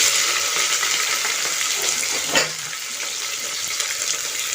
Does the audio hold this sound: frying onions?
yes